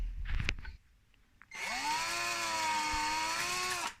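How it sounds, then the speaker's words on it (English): A 5mm drill bores out tight holes in a 3D-printed robot tibia: a brief handling clatter, a pause, then a loud steady high whine that holds for over two seconds and cuts off. "I'm just going to drill them out with a 5mm drill"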